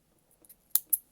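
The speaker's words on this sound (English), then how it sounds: "I'm going to snip off the yarn" Scissors snip through crochet yarn: a couple of faint light touches, then two sharp close snips in quick succession.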